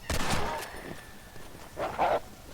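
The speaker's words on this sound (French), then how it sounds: "ce qu'on peut dire sur le chupacabra, c'est qu'il aboie comme un loup, un peu comme ça." Chupacabra creature from the video game Red Dead Redemption: Undead Nightmare giving a short wolf-like bark near the start, then a rougher growl about two seconds in, both fairly close with quiet game ambience between.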